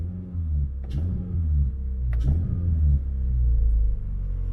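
Toyota Corolla Sportivo engine fitted with a custom 3-inch intake, a deep low rumble that swells twice with quick gear-shift-like surges while driving, steady and close with no talk.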